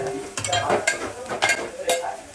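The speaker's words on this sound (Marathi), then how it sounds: "कांदा परतून" Onion sautéing in a pan for paneer bhurji: a steady sizzle with several rhythmic scraping strokes of a spatula stirring the pieces, close and fairly loud.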